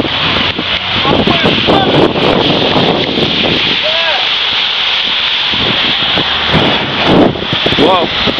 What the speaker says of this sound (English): Got a little bit of wind gust here.